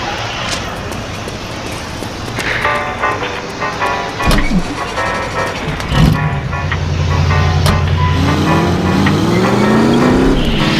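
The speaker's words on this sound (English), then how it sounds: "That's my car there. I'll drive." A car in the video game The Saboteur is driven, its engine note steady and then climbing in pitch as it accelerates, loud and continuous with some clunks early on.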